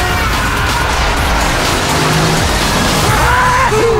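Racing cars in the Cars 2 video game roar loudly and continuously, engines droning with tire squeals and skids rising near the end.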